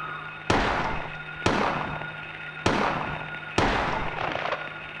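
Four loud, isolated gunshots in the Silent Hill survival horror game, each a sharp blast with a long decaying tail, spaced about a second apart.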